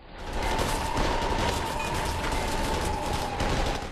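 Gunfire in the drama Squid Game, a dense, loud, continuous fusillade of shots with a steady underlying tone running through it.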